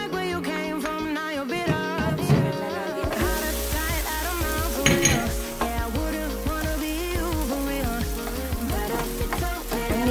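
Garlic frying in a pan on a home stove, a steady bright sizzle throughout, close and fairly loud, joined partway by a stronger hiss as more goes in, with no talking.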